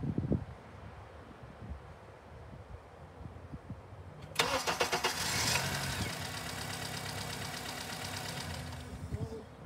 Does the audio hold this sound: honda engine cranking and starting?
yes